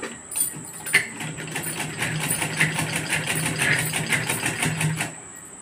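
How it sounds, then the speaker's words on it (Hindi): A sewing machine runs steadily while stitching cloth into a pouch made from a handkerchief, a close, continuous mechanical whirr with a regular rapid beat lasting throughout, with no talking. "अब यहाँ से सिलाई इस जगह से चालू करते हैं।"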